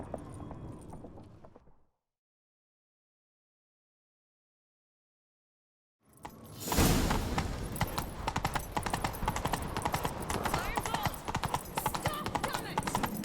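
Rapid galloping horse hooves pound steadily and loudly in the video game The Witcher 3: Wild Hunt after a brief silence, with a short stretch of talk before the pause.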